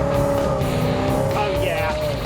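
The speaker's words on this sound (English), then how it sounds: "Me and Royal are about to race this wonderful Coronet." A Dodge Coronet R/T runs hard on a rain-soaked road, its engine a loud, steady, droning roar close by with a rising whine near the end, while people speak over it.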